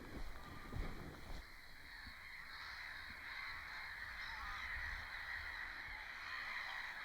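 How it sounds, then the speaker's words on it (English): Geese honk and birds call in the distance by a lake in Sweden over a steady outdoor hush, with a few louder calls early on. "I can hear the birds already"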